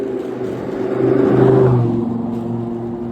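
Cars rushing past on a highway in Japan, a steady engine and tire roar that swells to a loud nearby pass and then eases, with continuous traffic hum throughout.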